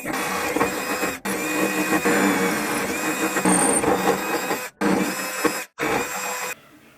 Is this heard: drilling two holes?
yes